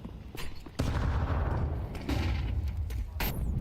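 Grenade blasts and gunfire in a Counter-Strike match, a sharp booming hit followed by sustained crackling bursts and further thumps at moderate volume.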